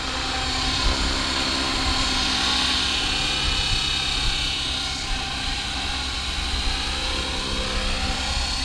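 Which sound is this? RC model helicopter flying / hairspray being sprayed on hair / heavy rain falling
RC model helicopter flying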